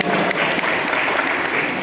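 Seminar audience gives a short burst of loud, dense clapping for the speaker at a teachers' day education event, sustained evenly across the brief moment.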